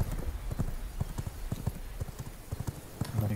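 Horse hooves clip-clop in a steady, quick rhythm in the V Rising video game, a close and continuous patter of hoofbeats with no talk over it.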